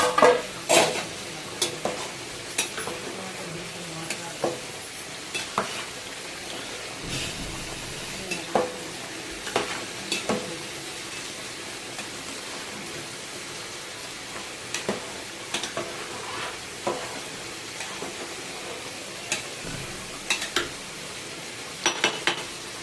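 A spoon repeatedly scrapes and knocks against a pot of vegetable rice bubbling on the stove, with irregular clinks over a soft continuous sizzle and no voices.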